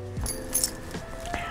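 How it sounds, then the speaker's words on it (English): Work keys jangling on an XXL keychain lanyard, a few light metallic clinks and rattles in short bursts, close and fairly quiet. "our XXL lanyard for your keys. These hold my work keys."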